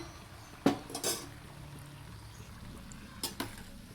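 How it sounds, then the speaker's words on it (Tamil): Fried banana sugar bondas being served onto a plate bring a few sharp, quiet clinks of utensil against plate, with a couple of brief clatters and soft kitchen noise between them and no talking. "இப்போ நம்ம ஒரு பிளேட்டுக்கு சர்வ் பண்ணிக்கலாங்க"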